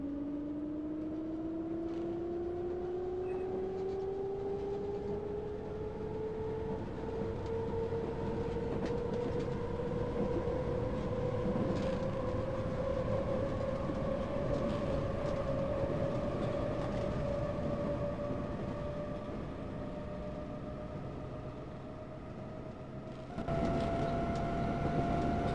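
A BR 480 S-Bahn electric train pulls away from a Berlin station in the Open Rails simulator, its motor whine rising steadily in pitch over a constant rolling rumble, sustained and close with no voices.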